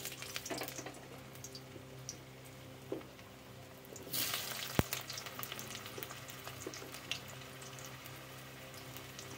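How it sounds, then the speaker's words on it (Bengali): Potatoes frying in hot oil in a wok, a continuous crackling sizzle with bursts of spattering, a sharp clack partway through and occasional stirring noises. "আলুটা এবার ভেজে নিচ্ছি।"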